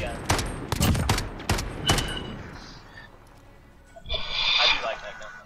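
Gunfire in a shooter video game, the shots coming as several sharp bursts during the first two seconds. A louder burst of noise arrives near the end, and people talk over the shooting.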